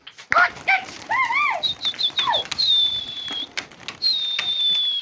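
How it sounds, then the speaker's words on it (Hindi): Brown pigeons on a rooftop pigeon-flying loft give a quick run of close, clear calls and chirps, followed by two longer sustained whistling notes, with no voices. "ये देखिए व्यूअर्स हमारे भूरे कबूतर हैं"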